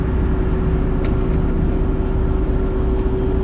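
A car with a transmission that will not shift runs its engine with a steady, loud low rumble and a constant droning hum, holding a fairly even pitch throughout with no talking.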